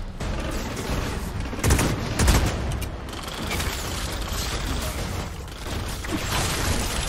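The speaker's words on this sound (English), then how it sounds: "I like the sniper rifle." Sniper rifle shots in the Outriders video game, two loud booming reports a moment apart standing out over a continuous bed of noisy combat and background game sound.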